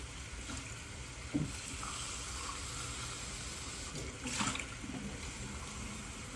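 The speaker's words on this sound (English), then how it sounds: "we're going to have to add a little bit of water in here" Water is poured in small amounts into a bowl of cornstarch, giving a faint trickle and splash over steady background noise, with a couple of brief louder splashes.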